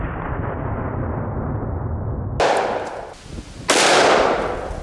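Large-caliber revolver shots, such as a .454 Casull, .44 Magnum or .357 Magnum, striking a watermelon outdoors: two loud, sharp blasts about a second apart, each with a brief rumbling tail, over a steady background hiss.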